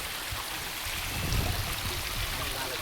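Pinnapuram Waterfalls in Nandyal district, Andhra Pradesh, during the rainy season: an even, broad rush of falling water heard close and continuous with no pauses.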